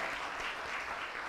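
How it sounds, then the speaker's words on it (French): An audience at the Genie Milenyal 2023 finale claps in a dense, even wash of applause that holds steady throughout and cuts off abruptly. "Bien, on les applaudit,"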